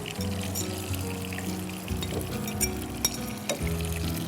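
Egg-coated prawns frying in a pan, a steady sizzle with a few soft clinks of utensils against the cookware, close up and with no talking.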